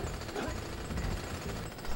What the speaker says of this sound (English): No, not the drill.